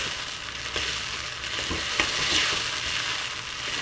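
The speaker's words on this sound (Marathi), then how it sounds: "आता ते 5 मिनिटं कांदा शिजू देऊया" Chopped onions for pav bhaji sizzle and fry steadily in a pan, a close, continuous hiss with faint stirring scrapes, no talk.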